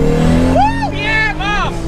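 A 900-horsepower Toyota Supra with anti-lag revs hard on a street launch, sweeping engine tones rising and falling loudly up close through a couple of quick pulls, with a voice talking over it.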